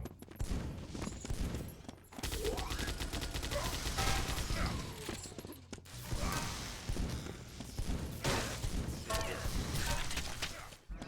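Dense bursts of gunfire from a competitive shooter match, continuous clattering volleys with short gaps between them and thuds mixed in, loud and close.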